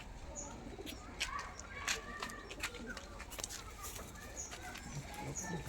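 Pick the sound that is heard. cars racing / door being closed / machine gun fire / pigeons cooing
pigeons cooing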